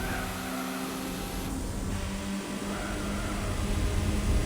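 A VW Lupo's engine in Gran Turismo 4 drones steadily under racing noise, holding a constant pitch that swells slightly toward the end, with no talk over it.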